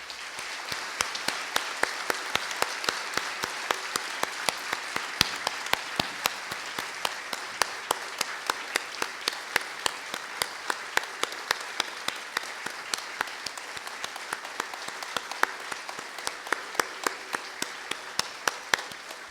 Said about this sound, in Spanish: le pido a todos ustedes que le demos un aplauso que le llegue hasta el cielo